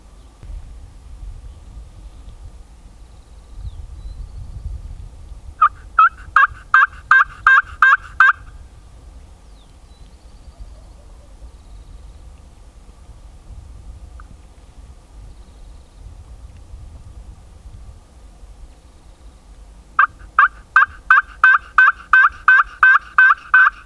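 Gould's wild turkeys gobble on a morning hunt in Sonora, two loud bursts of rapid repeated gobbles, one near the start and one near the end, over a low rumbling outdoor background.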